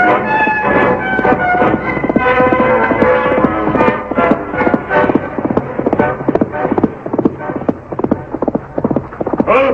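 Horse hoofbeats made as a radio drama sound effect clatter in a steady galloping rhythm, loud and close, under a swelling orchestral music score.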